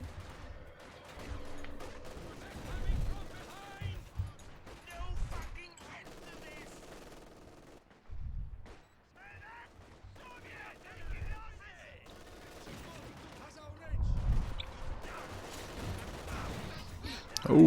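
Rapid bursts of gunfire and a heavier tank cannon shot, including from a T-34, crackle across a Company of Heroes 2 battle, arriving in irregular clusters of shots and booms with short quiet gaps between them.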